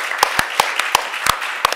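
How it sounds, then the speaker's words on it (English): Scattered, sharp handclaps ring out at a Labour Party conference fringe event, a sparse, unevenly spaced round of applause with a faint murmur of voices beneath. "we should give him a big round of applause"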